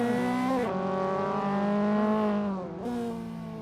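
Simulated race cars in Assetto Corsa carrying speed through a mountain touge run, a loud steady engine drone at high revs with a dip in pitch as the driver lifts and then climbs again, no talk.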